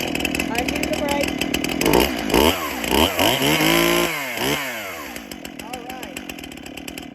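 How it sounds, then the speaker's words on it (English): STIHL chainsaw started up and left running, its engine revving and dropping in pitch through several throttle swells before settling to a buzzing idle, loud and close, with a brief spoken word near the start. "So that's how STIHL suggests that you start it."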